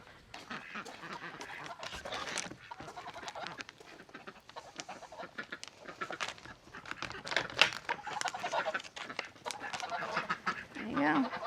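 Ducks and geese honk and quack in a busy flock inside a duck and goose house, a steady mix of calls throughout with some voices talking under the birds.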